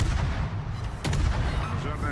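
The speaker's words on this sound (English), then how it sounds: "I dodged the Musashi shells from all the way downtown" Heavy naval gunfire from the Musashi battleship in World of Warships, with deep booming shell salvos, one sharp blast near the middle standing out over a dense, rumbling battle din.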